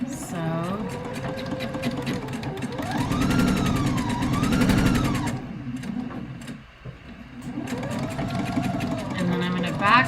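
A sewing machine stitches a robe jacket in long steady runs with a brief pause midway, loud and close, while a voice talks over the whirring motor.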